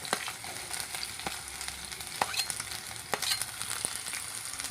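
Onion with green and dry red chillies frying in two spoons of oil in a pan for horse gram curry: a continuous close sizzle dotted with sharp spoon scrapes and taps, and no talking.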